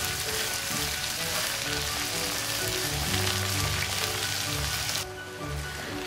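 Chicken pieces for korma frying in a hot pan, giving a steady, even sizzle close up with no talking, which drops slightly in level near the end.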